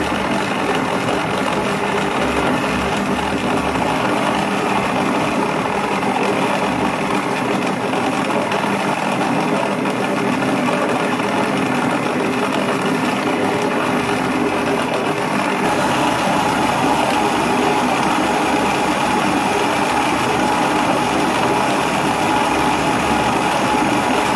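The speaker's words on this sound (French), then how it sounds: "Voilà, je l'ai mis au robot. Et là, je vais mettre à pétrir en vitesse 1 pour l'instant." A stand mixer kneading brioche dough at speed 1, a loud continuous motor whir with a steady mechanical drone that holds throughout, shifting slightly in tone about two-thirds of the way through.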